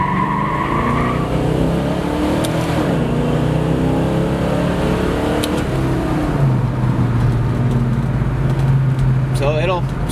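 A red 1970 Ford Mustang Mach 1 accelerates hard and spins its tires, the engine roaring and climbing in pitch through gears while tires squeal, loud and close for the whole stretch.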